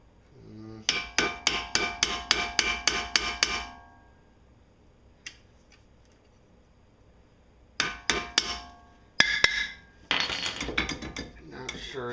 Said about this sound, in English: See if we can gently tap these pads on.